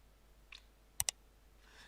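A computer keyboard in a drafting program, with a couple of crisp, close key clicks in a quiet room, a soft tap just before and faint rustle afterward.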